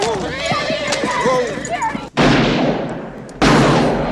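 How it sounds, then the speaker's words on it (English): Gunfire from the 1992 Western film Unforgiven: two sudden, loud, sharp blasts with a lingering roar follow a stretch of spoken film dialogue. "The sound of that weapon actually startled me for a second."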